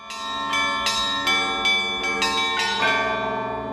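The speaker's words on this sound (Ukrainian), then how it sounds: "звучить благовіст, головний дзвін храму" The main bell of a church in Bendery rings at noon in rapid repeated strikes, each ringing tone overlapping the next, loud and close.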